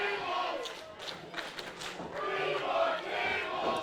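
Wrestling crowd at a match, chanting and shouting in rhythmic bursts, a loud, dense roar of many voices with occasional thuds.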